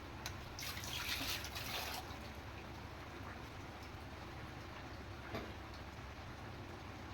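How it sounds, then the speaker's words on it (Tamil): Hands washed under a running kitchen tap in a home cooking setting, a steady faint stream of water with a brighter splashing burst early on, then a quieter trickle and drips. "ஹேண்ட் வாஷ் பண்ணிட்டு வரேன்"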